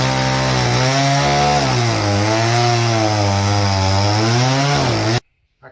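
A chainsaw bites steadily into a log being cut for shiitake mushroom cultivation, a loud close buzzing drone with a slight wavering pitch as it works through the wood, then abruptly cuts off near the end.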